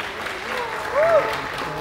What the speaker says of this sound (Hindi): जोरदार तालियां जबरदस्त।